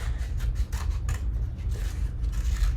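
Scissors snip steadily through paper while cutting out name letters during a preschool craft, a close, continuous rasping and crunching.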